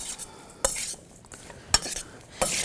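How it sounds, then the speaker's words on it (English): A spoon scrapes and clinks through a bowl of kachumbar salad with salt and black pepper, three sharp knocks against the bowl amid soft wet rustling, close up with no talking. "Then I'm going to mix this up."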